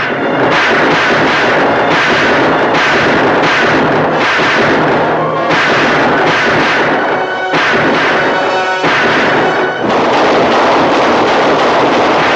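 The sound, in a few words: gun firing in a 1951 western film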